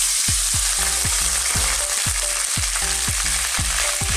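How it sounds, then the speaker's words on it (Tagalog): Pork belly fries in hot cooking oil in a pan, a loud dense sizzle and spatter running throughout, with a low rhythmic thumping pulse beneath it and no talk. "Mainit na po ang ating pan, meron na po siyang cooking oil. So ang first step po ay ilalagay natin ang belly pork."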